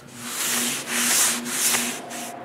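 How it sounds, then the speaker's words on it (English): A rag wipes walnut Danish oil across a large wooden workbench panel, giving rhythmic swishing rubs in several back-and-forth strokes, close and steady with a faint low hum underneath. "I use a rag and wipe the Danish oil everywhere"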